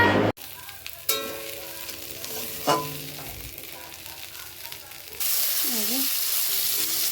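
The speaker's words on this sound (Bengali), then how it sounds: "এই যে ছোলার জন্য সম্বার দিচ্ছি, মশলাটা কষিয়ে নেব" Spices tempering in hot oil in a pan for chickpea curry, a steady loud sizzle that swells near the end, after a few clinks and stirring sounds, with someone speaking briefly.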